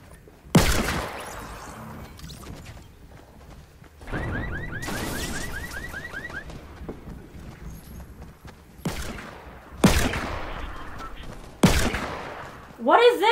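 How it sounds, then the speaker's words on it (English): Gunfire in the Fortnite video game comes in several separate sharp bursts, some as rapid volleys and some as single loud cracks, with quiet gaps and faint game noise between them. "you see me shooting them, right?"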